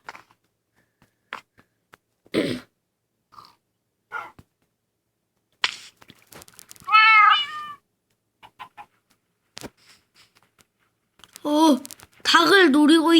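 A cat meows a few times, including a long wavering yowl, mixed with sporadic knocks and a person talking nearby.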